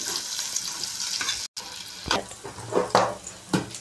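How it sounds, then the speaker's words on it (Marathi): Onion frying in a pan for an Indian masala dosa filling, a steady broadband sizzle with brief stirring scrapes and clatters, loud and close, and no talking. "2 मिनिटं आपण कांदा चांगला आपण एकदम फ्राय होऊन देऊ"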